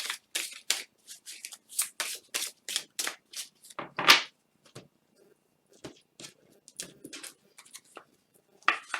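Oracle cards shuffled and drawn from a 'Symboles de vie' deck: a close, quick run of crisp papery riffles and slaps with short pauses, plus a louder snap midway and another at the end.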